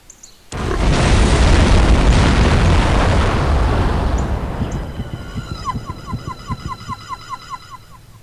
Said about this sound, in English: there was an explosion of unknown origin in the town of Shilling, England